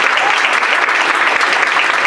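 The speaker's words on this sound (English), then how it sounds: "let's give her a big round of applause for Gio" Loud, close applause from a student leadership workshop audience, a dense steady roar of clapping that holds evenly for its short length with no talking on top.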